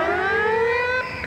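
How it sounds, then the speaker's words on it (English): A long, steady siren signals half-time at a 1990 Wellington versus Great Britain rugby league match at the Basin Reserve, its wailing tone holding loud and even before dropping away near the end. "That's the half-time siren here at the Basin Reserve."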